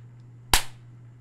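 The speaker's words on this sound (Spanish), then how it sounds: "hay fuegos artificiales" Fireworks give a single sharp, loud bang with a short fading tail over a low steady hum, with no talking.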